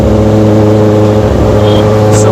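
A Benelli TnT 600GT motorcycle with an Ixil 55 exhaust runs loud and close, a dense, steady engine drone with a few brief higher notes near the end.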